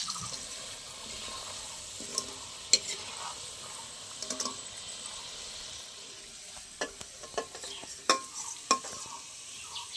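French fries frying in hot oil in a larger second batch, with a steady close sizzle and scattered scraping clicks as they are stirred.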